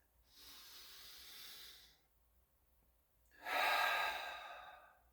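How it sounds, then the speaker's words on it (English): A person takes a breath: a soft, airy inhale lasting over a second, a pause, then a louder, longer breathy exhale, close and quiet. "take a breath"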